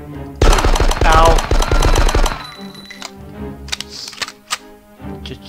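Rapid automatic gunfire in the Die Hard: Nakatomi Plaza shooter game, a dense loud burst of about two seconds, followed by scattered lighter clicks and thuds.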